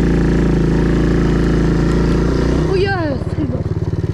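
A quad bike engine drones loudly up close at idle, then falters into uneven, pulsing sputters. Someone speaks briefly over it.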